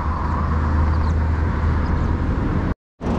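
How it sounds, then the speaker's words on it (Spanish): Car traffic rushes steadily along a road near an abandoned Oxxo store, a continuous loud roadway roar with engine rumble. It cuts out abruptly to silence for a moment near the end, then resumes. "todos los carros que vienen"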